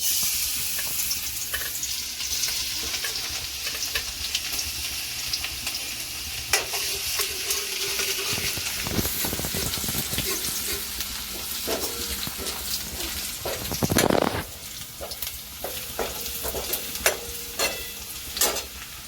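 Chopped garlic sizzles steadily in hot oil for schezwan sauce, with continuous frying hiss, occasional stirring scrapes and a brief louder burst of spatter near the middle.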